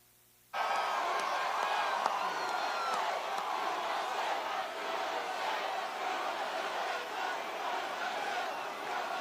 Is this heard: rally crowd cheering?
yes